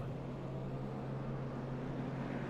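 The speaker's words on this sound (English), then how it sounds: "There we go, pace car is on the move." Pace car and race cars in an ARCA Series racing video game at Kansas, a steady low engine drone with a constant hum, moderately faint and even throughout, with no voices.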